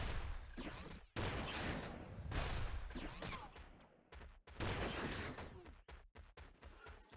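Magma cannon shots in Ratchet Deadlocked online play, a rapid barrage of loud, booming blasts in bursts with short pauses, ending in several separate thuds.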